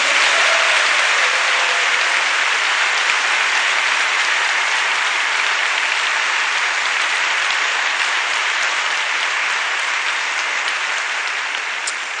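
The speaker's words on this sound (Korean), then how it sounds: "박수를 한번 뜨겁게 다시 환영합니다." A church congregation at Onnuri Church applauds warmly to welcome a visiting pastor at a revival meeting, a loud, dense, sustained roar of clapping lasting over twelve seconds with no voices over it.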